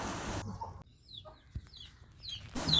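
A few faint, high-pitched chicken chick chirps at daybreak scattered irregularly against a quiet background, with louder noise bursts at the start and end.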